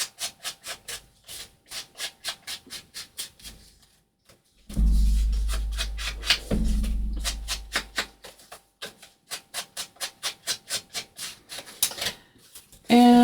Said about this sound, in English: Just going to ink around the edges.